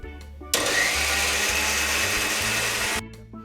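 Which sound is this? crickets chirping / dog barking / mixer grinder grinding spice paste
mixer grinder grinding spice paste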